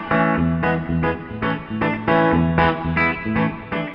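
An old electric guitar is played in a venue with slapback reverb, a sequence of loud, distorted chords struck in a steady rhythm, each ringing briefly before the next, with no voices.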